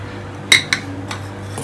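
A spoon clinks against a pot while dry fruits are stirred into sweet vermicelli (sevai): two sharp metallic knocks close together, then a fainter tap and another light clink, over a quiet background.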